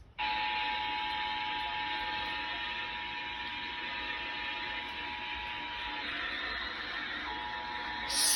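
EAS emergency alert attention tones broadcast on a Kentucky radio station, a steady loud electronic tone held for several seconds, heard alone.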